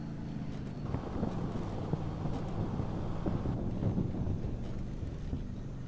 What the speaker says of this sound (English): Did you also just hear thunder? Because I heard thunder.